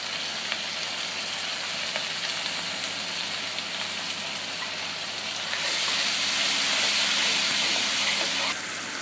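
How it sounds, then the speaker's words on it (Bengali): Spices fry in a hot pan, giving a steady, loud sizzle and hiss throughout that swells brighter and louder in the second half before easing back near the end. "জিরা ছাড়া অন্য অন্য মশলা দিয়ে আমি এটা ভালোভাবে কষিয়ে নেব মশলাটাকে"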